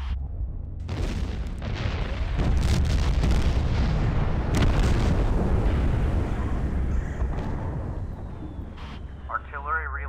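A booming artillery strike in the dinosaur-hunting video game Carnivores Divergent sounds as a long, heavy roll of explosive rumble. Sharp cracks and bursts sit on top of it for several seconds before it tapers off, with a brief electronic chirp at the end.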